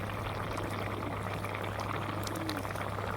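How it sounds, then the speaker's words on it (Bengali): Pabda fish goes into a pot of boiling curry broth with pumpkin bori and potato, under a steady, close, dense bubbling and pouring rush that fills the whole moment. "বলক এসেছে, এখন আমি মাছ দিয়ে নিচ্ছি।"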